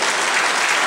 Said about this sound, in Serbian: Ja vam predlažem da ih najprije nagradimo aplauzom.